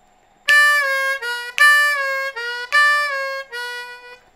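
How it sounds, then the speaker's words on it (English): Clean four-draw notes on a C blues harmonica, played as three sustained bright tones with short breaks between, each breath-driven and steady, with a faint accent at each attack and no voice. "So that's the clean four draw."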